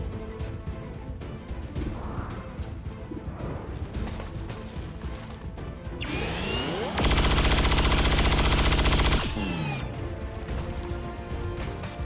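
Soldiers firing in XCOM 2, a rattle of gunshots under game music, then a loud sustained burst of automatic fire with sweeping mechanical whines before and after, close and dominant.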